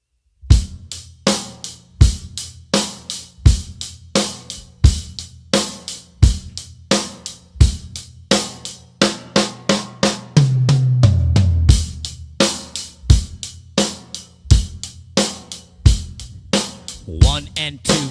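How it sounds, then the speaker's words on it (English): A drum kit plays a basic eighth-note rock beat with steady kick, snare and hi-hat, breaks into a short eighth-note fill on the toms midway, then returns to the groove, loud and close. "rock beat followed by an eighth note drum fill"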